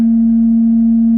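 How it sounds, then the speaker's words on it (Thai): A steady, resonant singing bowl tone, played through a portable projector's speaker, hums on without a break, loud and close, with no voices. "ตรงนี้เป็นเสียงขันที่เบสนะครับสำหรับทำสมาธินะ"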